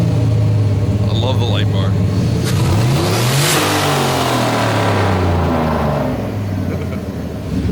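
A turbocharged, nitrous-fed LS V8 engine in a Toyota Hilux truck starts and rumbles, revving up loudly nearby, pitch climbing and falling, while people talk over it.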